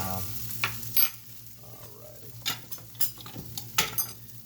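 Eggs searing in a greased frying pan give a soft continuous sizzle, broken by several sharp scrapes and taps of a utensil spreading them around, with a low hum underneath and no voices.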